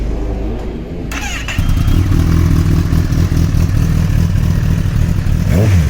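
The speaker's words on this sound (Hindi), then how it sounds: "चलिए गाइस फायर अप करते हैं ZX टेनर को ऑन दिस योशी एग्जॉस्ट" A Kawasaki ZX-10R 30th Anniversary Edition race bike with a Yoshimura exhaust cranks and fires up loudly after a second of quiet. It settles into a deep, lumpy idle with a short rev blip near the end.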